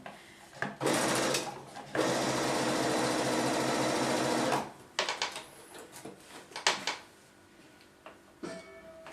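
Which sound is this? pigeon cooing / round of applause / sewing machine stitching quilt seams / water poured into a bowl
sewing machine stitching quilt seams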